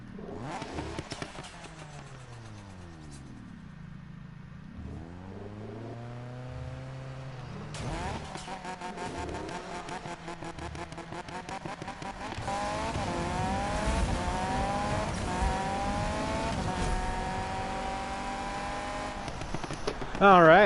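A yellow Lamborghini in Need for Speed 2015 revs and accelerates through rising and falling engine sweeps, tires squealing in spots, growing louder toward the end while someone talks over it.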